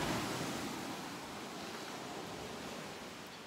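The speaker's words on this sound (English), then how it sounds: "these waves are beating down" Steady broadband wash of ocean surf at Klima on Milos, Greece, a continuous roaring hiss of waves breaking on the shore with no talk, slowly easing in loudness.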